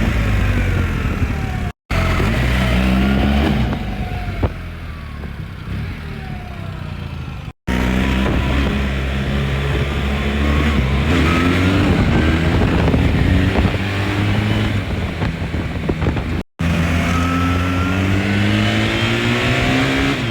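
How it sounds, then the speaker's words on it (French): A BMW R 1300 GS Adventure motorcycle engine runs steadily and loudly, with wind rushing over the microphone as it rides; pitch rises and falls through gear changes with a few abrupt cuts, and there is no talk. "le moteur il fait un bon bruit"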